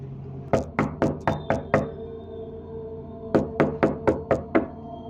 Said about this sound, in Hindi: दरवाजे पर एक दस्तक सुनाई देती है।